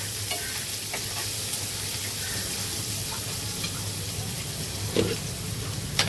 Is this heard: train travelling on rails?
no